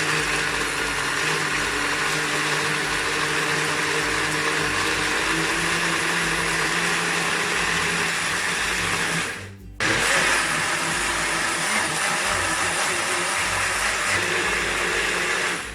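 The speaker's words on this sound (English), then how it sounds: "this is the advantage of the small shaker, of the small blender." A small blender whirs steadily while blending jalapeño, black pepper and pineapple hot sauce, a loud continuous motor drone with one brief dip before it resumes, no talking.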